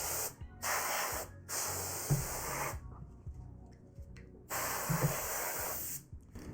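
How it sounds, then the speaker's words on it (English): Canned air sprayed into a PS4 console to blow out dust, three separate hissing bursts, the first two close together and a longer one after a pause, with faint handling noises between them. "And another round of canned air."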